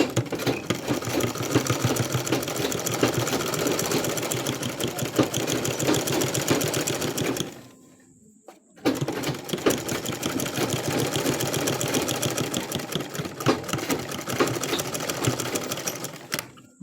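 A sewing machine stitches a welt pocket on a pair of trousers, running in a steady, loud mechanical chatter that stops briefly about halfway through and then resumes at the same pace.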